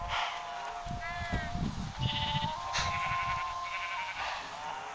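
Sheep in the Minecraft video game bleat several times in a row, wavering and fairly clear, while someone talks steadily underneath.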